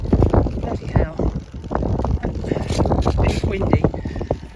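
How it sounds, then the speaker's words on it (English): Strong wind buffets the microphone outdoors at a model airplane flying session, a loud continuous rumbling roar with gusty surges, while someone talks over it. "It's windy."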